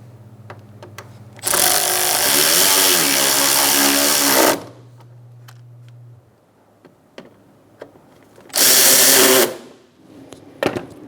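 A power tool tightening bolts on the front bumper impact absorber of a 2012–2018 Ford Focus, two loud close whirring bursts of about three seconds and one second, separated by quieter clicks and handling noise.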